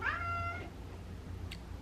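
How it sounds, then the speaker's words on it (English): A pet house cat gives a single short, clear meow near the start over a quiet indoor background, followed by a faint higher chirp. "That's my cat saying hi."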